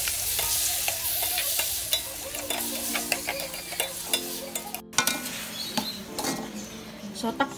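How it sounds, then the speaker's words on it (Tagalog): Tomatoes sautéed with onion and garlic in a pan, a close sizzle overlaid with frequent clinks and scrapes of a utensil stirring, one brief silent gap midway. "Pag okay na yung sibuyas at bawang natin, pwede na natin igisa ang ating kamatis."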